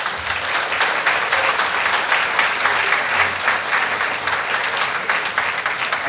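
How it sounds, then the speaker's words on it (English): An awards ceremony audience applauds an alumni honoree, a thick, continuous wash of clapping from a large crowd that stays loud and even from start to finish. "Please keep the applause going."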